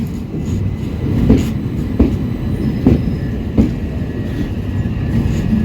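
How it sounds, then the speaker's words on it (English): A Southeastern Class 376 electric train at London Charing Cross gives a steady low rumble, with a regular clickety-clack of wheels over rail joints at roughly one-second intervals and some faint squeal; no voices. "Why am I videoing arguably one of the worst trains in the United Kingdom?"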